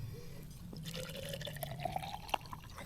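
Apple juice trickles and drips into an inflatable kayak being used to cook an egg omelette, a faint, uneven patter of small liquid splashes that grows slightly busier toward the end.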